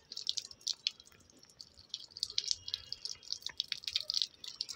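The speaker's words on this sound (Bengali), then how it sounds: "নিজে নিজে জল পড়ে যাচ্ছে পাইপ থেকে, পাইপে এত জল ভরে গেছে।" Water drips from an opened pipe still full of water, a quick, irregular patter of small drops that is close but quiet, with no talking.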